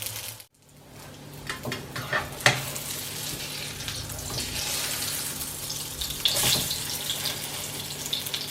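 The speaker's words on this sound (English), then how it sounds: "While the burgers are cooking" Hamburger patties with cheese in the middle sizzle steadily in a pan, a soft, continuous frying hiss with a few small clinks and stirring sounds, no voices.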